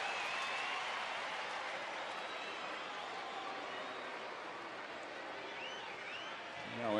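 A sellout baseball stadium crowd at a Toronto at Texas game applauds and murmurs in a broad, steady wash of noise, heard at a distance with a little whistling mixed in.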